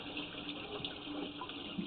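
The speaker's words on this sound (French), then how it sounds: "Vous pouvez juste couper le robinet s'il vous plaît" Steady broadband rush of water pouring from a tap into a crawlspace drain line being inspected for cracks, continuous and fairly faint throughout with no voices.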